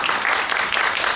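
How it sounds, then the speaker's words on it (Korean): A brief burst of audience clapping rises at a youth climate change debate contest, a dense, even patter of many hands that lasts only a moment. "박수 보내주시고요"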